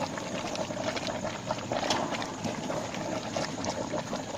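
A banyan sap mixture boils hard over a stove at night, giving off a dense, continuous bubbling and churning that stays steady throughout.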